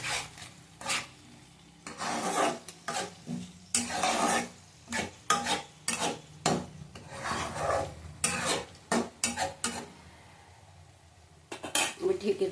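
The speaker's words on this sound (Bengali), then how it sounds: "এবার ঢেকে ঢেকে রান্না করব, ভালো করে কষিয়ে নেব।" Spice masala being stirred and fried in a pan for a Bengali egg and green banana fritter dish, with repeated scraping strokes of a utensil against the metal pan in uneven bursts, close and moderately loud, pausing briefly near the end.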